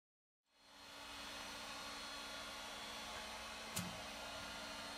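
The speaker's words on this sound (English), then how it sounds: "We insert the device in the special mobile dryer" Samsung mobile dryer heating a Galaxy Tab S2 tablet at 80 degrees Celsius during a teardown, a steady whooshing hum that starts up and runs evenly, with one brief click near the end.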